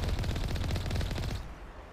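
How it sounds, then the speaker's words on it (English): A heavy turret in Mass Effect fires a fast, loud burst of evenly spaced shots for over a second, then stops abruptly and leaves a quieter tail. "That is a heavy turret."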